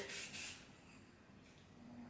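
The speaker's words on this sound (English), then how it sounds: "spray it, making sure I'm laying down all my little baby hairs" Two short close hissing bursts of hair spray misted onto hair while styling a high bun, followed by quiet room tone.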